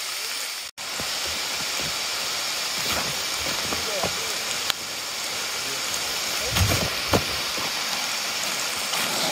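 Rain falls steadily at a mountain camp post on Mount Ciremai's Linggarjati trail, making a continuous soft patter with a few sharper knocks and brief voices in the background.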